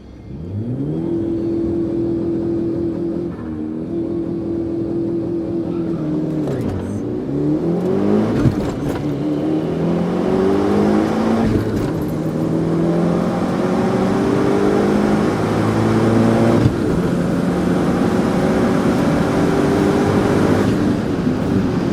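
A turbocharged Eclipse GSX accelerates hard down a drag strip, its engine climbing through repeated rising sweeps with brief drops between gear shifts, loud and sustained throughout.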